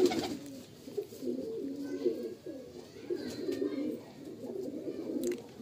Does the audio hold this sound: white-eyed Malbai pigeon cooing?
yes